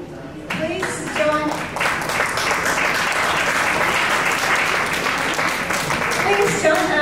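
An audience at an International Women's Day community event applauds, a dense, sustained wash of clapping that holds steady for several seconds, with voices mixed in.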